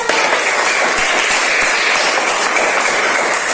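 Children clapping their hands together in a classroom lesson, a steady dense patter of many small hands sustained for a few seconds, fairly close and even, with a few sharper individual claps standing out.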